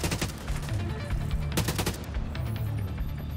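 Dense assault rifle fire in The Division 2, loud and steady, with rapid overlapping shots running through the whole stretch and a few sharper bursts standing out.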